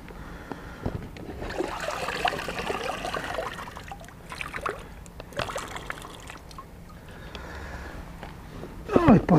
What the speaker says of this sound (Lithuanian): Gerai, pakeisim vandeniuką.